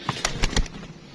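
Soft, low cooing of pigeons, a few quick pulses close by against a faint background hiss.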